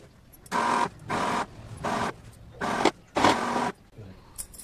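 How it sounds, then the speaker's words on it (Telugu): A sewing machine stitches around the edge of a salwar top for a Punjabi dress, running in five steady bursts of close, even whirring separated by short pauses. "ఒక పాదం ఖర్చు పెట్టి కుట్టేసుకోండి."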